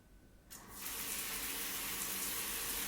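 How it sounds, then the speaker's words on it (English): A shower is switched on after about half a second of quiet and runs steadily as a loud, broad hiss of spraying water that fills the rest of the clip, with no talking. "So we'll just hop in the shower"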